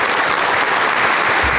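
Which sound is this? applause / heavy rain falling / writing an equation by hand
applause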